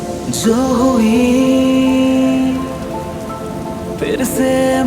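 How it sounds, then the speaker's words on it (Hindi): Steady rain patters beneath a sustained musical tone in a song, the drizzle hiss running throughout with no voices. "वो बारिश की साउंड"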